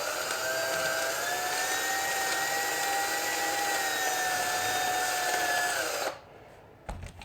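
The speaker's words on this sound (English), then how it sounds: "there's my pilot hole for my Dremel. Gonna make it just a little bit bigger." A Dremel rotary tool enlarging a pilot hole in a shave brush handle gives a steady high-pitched whine for about six seconds, then cuts off, followed by a brief faint scrape.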